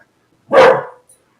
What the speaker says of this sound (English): trying to have a bark off with Cookie